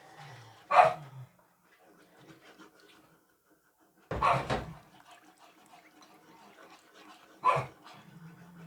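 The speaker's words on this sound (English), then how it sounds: "There goes the two little dogs in the back" Two little toy poodles barking in the background of a home kitchen, three separate sharp yaps spaced a few seconds apart with faint whimpering and panting between them, moderately distant, with no talk.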